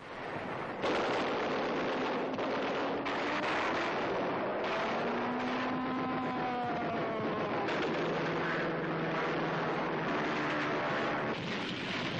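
Strafing fighter planes and a heavy combined bombardment in a wartime newsreel, heard as a dense, continuous roar with sustained engine drones and layered blasts, loud and unbroken throughout.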